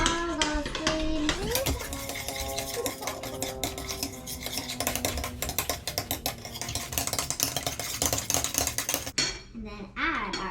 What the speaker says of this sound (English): Mix all those creams.